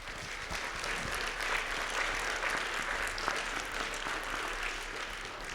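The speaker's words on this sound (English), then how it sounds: "we should give the students one more round of applause for" An audience applauds students at a founder panel event, a dense, sustained wash of clapping from a crowd at moderate distance, steady throughout with no voices above it.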